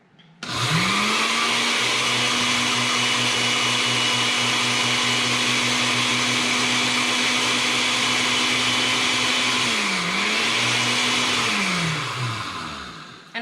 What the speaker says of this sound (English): So I just put this in my little blender.